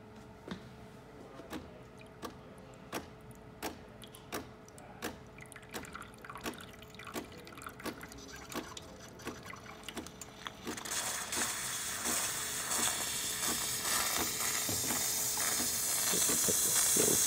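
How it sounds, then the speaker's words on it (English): DeLonghi espresso machine steam wand: rhythmic ticking pump pulses at first, then a broad steady steam hiss rising and building in loudness toward the end. "Now we'll do some steam."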